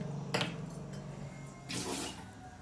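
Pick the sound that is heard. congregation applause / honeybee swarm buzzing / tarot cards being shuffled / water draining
water draining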